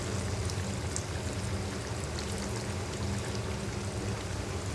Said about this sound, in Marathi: आता वरून याच्यात थोडंसं मी आंबटपणासाठी चिंचेचं पाणी घालते